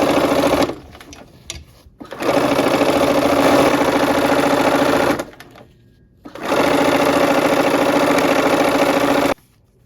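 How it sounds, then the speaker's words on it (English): A sewing machine stitches quilt strips in two long, steady bursts of fast rhythmic whirring, loud and close, with short pauses and a brief quiet gap between the runs. "If you have these all laid out, you just keep on sewing."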